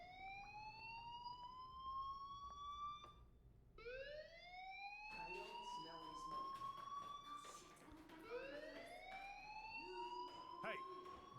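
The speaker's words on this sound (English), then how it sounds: "Hey, do you hear that fire alarm?" A fire alarm rings inside the video game Life Is Strange, repeated rising electronic wails sweeping up in pitch, steady and prominent over a low background hum.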